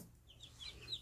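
Very faint soft clucking from young chicks of the Cheonggye breed and a hen, brief and quiet with a few high peeps, no talk.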